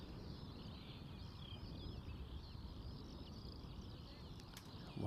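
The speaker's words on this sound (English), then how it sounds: "When it's silent, you can hear the birds chirping away." Birds chirp faintly in the distance around a cricket ground in Estonia, a thin, continuous twittering over a low rumble of wind and open-air background noise.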